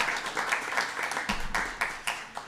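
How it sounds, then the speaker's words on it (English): A full-house morning audience at a State Board of Education meeting claps for itself. Dense applause rises in quick, uneven bursts of close handclaps and sounds fairly loud, with no talk over it. "give yourselves a round of applause for being here"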